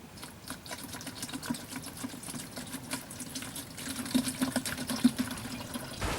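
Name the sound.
water poured through a homemade sand and charcoal filter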